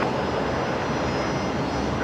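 Fokker 100 jet airliner at Brisbane Airport, a steady broadband roar of engines heard from a moderate distance, filling the whole moment without a break.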